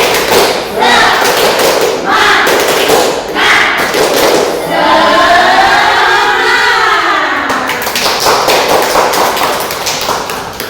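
A classroom group does a rhythmic clapping chant during an ice-breaking activity, with loud repeated hand claps and voices cheering together, the crowd sound rising into a sustained collective shout near the middle before the clapping continues.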